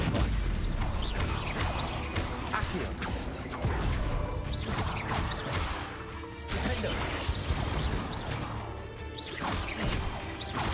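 Confringo blasting spell in Hogwarts Legacy, loud repeated explosive crashes and impacts roughly every few seconds over continuous combat noise, dense and close with thumping debris and whooshes.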